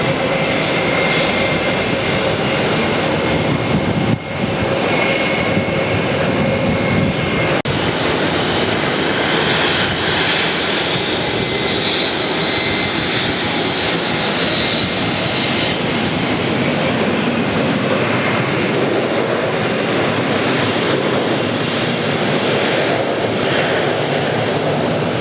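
A Boeing 737 jet moves fast on the ground at Atlanta airport after landing, with a sustained loud engine rumble and whine that runs unbroken for the full length, without talk.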